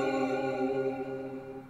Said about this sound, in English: That's the Resident Evil noise.